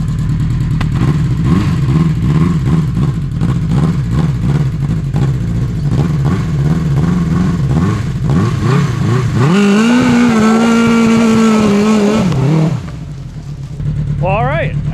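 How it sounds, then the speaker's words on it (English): A custom 1980 Honda CB900 motorcycle engine on a lawnmower trike pulling logs revs and labors loudly up close, pitch rising and falling, then holding a strained high tone before easing off. "let's see if we can pull some of these logs here."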